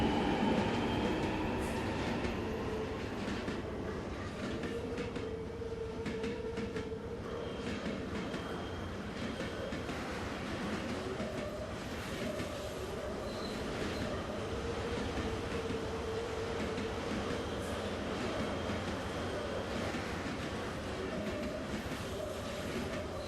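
A train rumbles along continuously in the video game Fallout London, a steady loud roll of wheels on rails with faint squeals and clatter throughout, with no voices.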